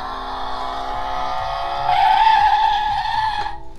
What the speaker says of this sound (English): Supposed to make sounds, supposed to fit Ralph